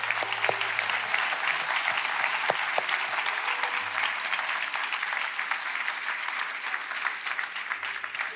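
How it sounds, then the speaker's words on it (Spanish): A church congregation applauds at a Spanish-language worship service, a steady, dense wash of clapping that stays loud for the full stretch, with faint voices and a brief tone underneath. "¿Por qué no le das un aplauso a Dios bendito, hermano santo?"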